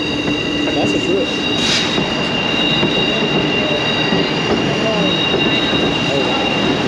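A White Pass train passes on the track in Skagway, Alaska, with a loud, steady close-up rumble of rolling cars and a high, thin wheel squeal running throughout, plus faint voices in the background.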